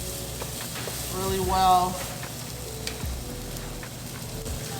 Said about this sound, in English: I'm just going to saute these up